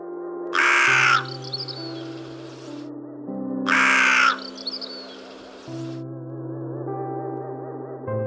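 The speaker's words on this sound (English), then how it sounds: "here is a crow." A crow caws twice, each harsh caw followed by a few faint echoing calls, over quiet background music.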